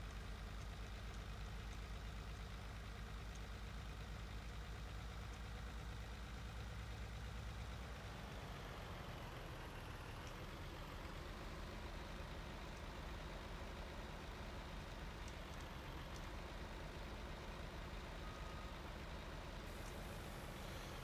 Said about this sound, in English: I don't like this truck.